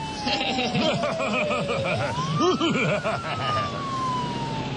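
Police car siren in an Icelandic comedy radio play, a loud wailing tone that sweeps down, rises and falls again, with chuckling voices and bustle underneath.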